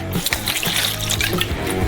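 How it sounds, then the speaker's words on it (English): Milk poured into a bowl of corn dog batter made with corn and wheat flour, egg, baking powder, salt and sugar, a steady close liquid stream and splash running throughout. "We break 1 egg and pour in some milk."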